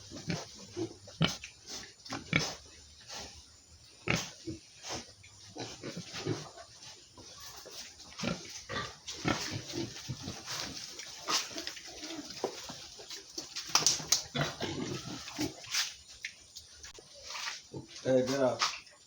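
Pigs on a pig farm in Ghana after heavy rain, with grunts and squeals scattered throughout alongside nearby movement, while a person talks intermittently over the animals.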